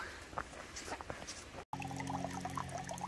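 Spring water trickles slowly off a leaf in the woods, a soft, steady pouring sound close by, faint overall, with a brief break partway through.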